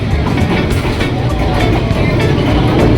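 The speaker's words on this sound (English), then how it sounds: "That's the engine." Train engine rolling slowly through Hanoi Train Street in Vietnam, a heavy low rumble with rhythmic clanking, loud and close for a few seconds.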